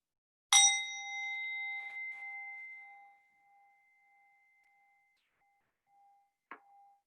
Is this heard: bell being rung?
yes